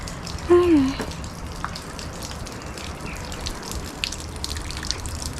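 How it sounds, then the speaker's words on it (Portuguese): Water leaks and gushes from an aqueduct more than 30 metres high, making a steady broadband rush throughout. A brief voice rises over it near the start. "Tá vazando."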